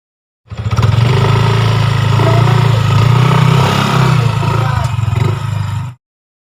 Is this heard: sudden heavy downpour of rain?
no